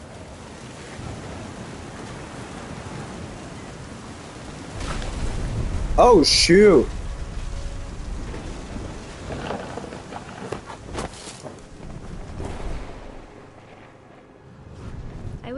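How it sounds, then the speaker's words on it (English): Thunderstorm with rain and wind in What Remains of Edith Finch, a steady roar of rain and surf-like wash with a swelling thunder rumble midway, and a voice briefly exclaiming over it. "The thunder sounded much too close and full of angry power."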